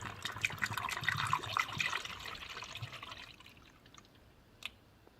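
Coolant concentrate poured from a bottle into the expansion tank of a VW Passat B6 2.0 TDI PD engine, a soft liquid trickle and glugging that fades over the first three seconds, followed by a faint click near the end.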